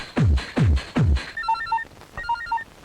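A telephone rings during an indoor scene: three quick whooshing sweeps come first, then two short bursts of bright electronic ringing, moderately loud and close.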